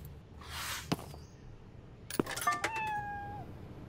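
A kitten in the video game Internet Cafe Simulator 2 gives a few short, faint meows among quiet game sounds, with brief clicks and a high electronic tone near the end.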